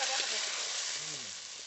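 Ground paste hitting hot oil in a wok with onion and bay leaf while cooking a fish curry, a loud bright sizzle that starts strong and eases slightly, with a voice faintly underneath.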